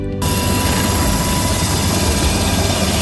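Black Hawk helicopter landing in a remote, isolated area during a disaster relief delivery, its loud, steady rotor and turbine roar filling the whole stretch close by without any talk.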